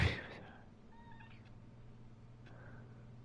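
A cat meows in a short, close call right at the start, then the sound settles into a steady low hum with faint tonal traces.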